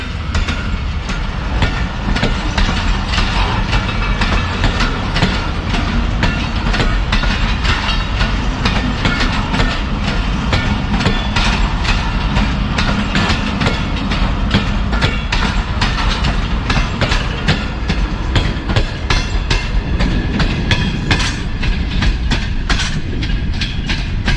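A passenger express train rumbles past a station platform at close range, at Toba Tek Singh railway station, with rapid, continuous clickety-clack of wheels over rail joints, loud and steady the whole time.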